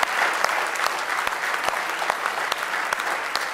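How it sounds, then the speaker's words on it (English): A church congregation claps together, a dense, steady patter of many hands filling a large room, with a few sharper claps standing out. "Let's give him a real good hand clap if you love him with all your heart this morning."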